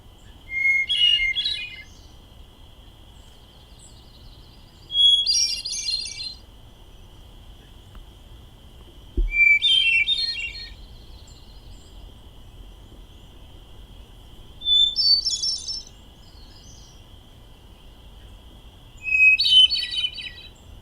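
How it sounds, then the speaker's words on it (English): Hermit thrush song: five separate flute-like phrases, each opening on a clear held note and then spiralling upward, spaced about four seconds apart over a steady high insect drone and low background hum. "here's a good example of that in another thrush, the hermit thrush."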